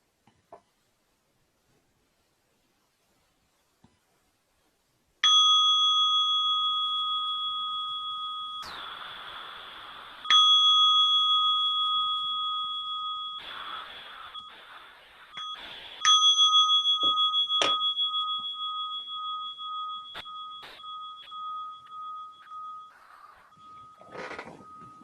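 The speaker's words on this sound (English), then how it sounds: "I'm going to ring a bell to begin" A meditation bell rings three times, each clear metallic tone sounding sustained and slowly fading before the next strike, with a quiet room otherwise still.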